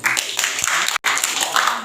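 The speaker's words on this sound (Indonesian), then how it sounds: "Silakan tepuk tangan untuk kedua tim." A crowd claps for two teams at a university student orientation event, a short burst of dense, fairly loud applause with a brief break in the middle.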